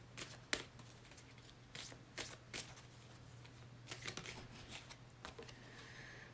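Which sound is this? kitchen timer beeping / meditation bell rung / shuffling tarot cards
shuffling tarot cards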